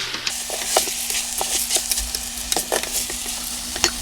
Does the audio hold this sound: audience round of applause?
no